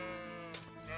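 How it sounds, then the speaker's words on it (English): A sheep in the game Kingdom Come: Deliverance lets out a single wavering bleat, close and clear, lasting about a second. "Sheeps."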